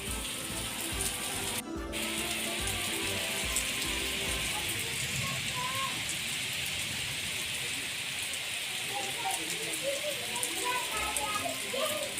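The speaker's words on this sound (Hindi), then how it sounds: "और बहुत ज़ोर से बारिश हो रही है बाहर, और हवा भी साथ में चल रही है" Heavy rain falls outside a home in Himachal during a power cut, with wind blowing alongside it; a steady, dense roar of rain continues evenly throughout the stretch.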